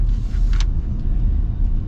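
The 5.0 V8 of a 2026 Ford F-150 Tremor pickup revs with a steady, deep rumble and a throaty growl, held loud and close for a couple of seconds.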